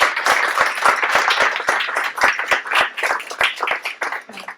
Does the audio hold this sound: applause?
yes